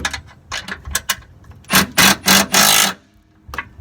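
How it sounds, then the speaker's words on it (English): A steering rack bolt on a 2WD Volkswagen Vanagon is tightened during a crossmember reinforcement kit install. Close mechanical clicks and short rasping bursts build into several loud, longer ratcheting runs before a final brief click. "we will tighten the steering rack bolt the rest of the way"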